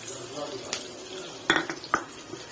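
Tomato chutney with a touch of tamarind sautés in hot oil, a soft steady hiss under sharp clinks and scrapes of a spoon against the pan, with a few louder knocks near the end.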